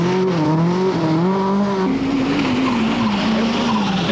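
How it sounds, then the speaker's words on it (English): Rally car at the 1982 Lombard RAC Rally sliding off the road, its engine droning loud and steady, pitch wavering and dropping as tires scrub across the surface. "Best British hope, Tony Pond, is 4th fastest at Bramham, but slides off at Clumber and drops out of the top 10."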